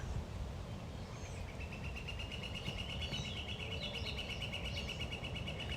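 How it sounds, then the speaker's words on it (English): A bird chirps in a thin, repeating trill of quick notes, fairly faint over a steady background hum, running through most of the few seconds. "I hear that bird laughing at me."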